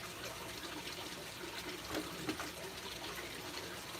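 Water pours steadily into an aquarium tank, a constant faint wash of splashing with no pauses.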